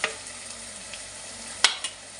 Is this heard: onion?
yes